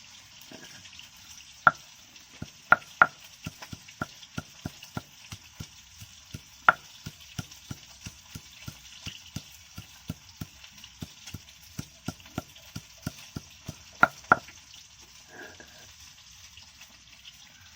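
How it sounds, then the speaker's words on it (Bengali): Garlic cloves get pounded at home, a series of sharp, evenly spaced thuds with a few louder knocks, repeating steadily over a faint background hiss without talk. "আরো পিস রসুন আছে, আমি এটাকে ঠুকে নেব।"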